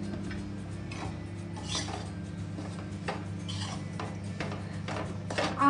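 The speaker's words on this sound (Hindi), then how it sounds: "again I put it inside the microwave, micro button 720 what for 3 minutes," A microwave oven runs at 720 watts while roasting sesame seeds inside, giving a steady low hum with faint ticks and light rattling on top, continuous and close, with no talk.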